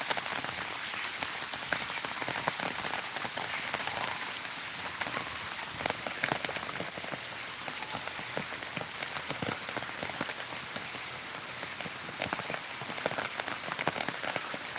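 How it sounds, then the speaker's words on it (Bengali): Floodwater runs everywhere around a house after a night of heavy rain, a steady, hissing wash of water that stays even and fairly faint throughout, with no voices. "চারিদিক দিয়ে শুধু জল যাচ্ছে চারিদিক দিয়ে জল যাচ্ছে"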